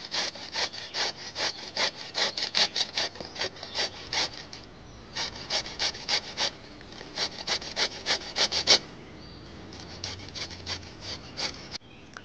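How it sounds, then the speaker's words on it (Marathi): Peeled chikoo (sapodilla) fruit rubbed on a kitchen grater gives quick, rhythmic rasping strokes in bursts, with a short pause midway, close and fairly soft, without speech. "मी ह्या किसणीवरती हे किसून घेणार आहे."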